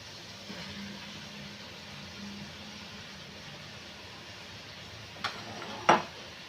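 Okra tipped into frying masala in a pan, a soft steady sizzle with faint stirring, ending in a couple of sharper clinks of a spoon against the pan.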